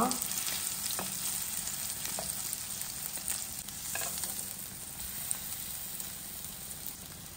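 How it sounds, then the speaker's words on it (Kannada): Paneer thecha frying in oil in a pan and being turned over, a dense, continuous sizzle that swells slightly as the pieces are flipped, with a few light utensil scrapes. "ಎಣ್ಣೆ ಸ್ವಲ್ಪ ಸ್ಪ್ರೆಡ್ ಮಾಡಿ ಮೆಲ್ಲಗೆ ಮೇಲೆ ಕೆಳಗೆ ಮಾಡುವ"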